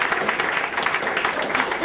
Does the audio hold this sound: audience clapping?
yes